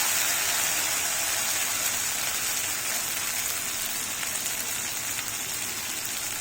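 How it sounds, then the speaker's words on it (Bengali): Spices frying in a pan of oil, a steady bright sizzle and crackle that runs continuously and close up, with no talking over it. "মশলা ভালো করে ভেজে নিয়ে"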